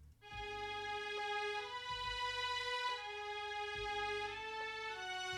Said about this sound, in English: I added this violin part in the last hook